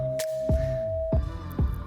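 A steady pure electronic tone, a colour converted to sound representing purple, hums alone for about a second, broken by a few soft knocking thumps.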